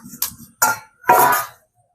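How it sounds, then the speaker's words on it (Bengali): A cooking pot lid is lifted off while whole hilsa fish cook in banana leaves, giving a few short metallic clinks and clatters close by, followed by a longer scraping rattle. "আমি আবারও দশ মিনিট পরে ঢাকনাটা তুলছি"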